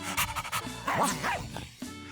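A puppy yips and whimpers up close, with a few short, sharp barks, panting and soft whining cries running in uneven bursts.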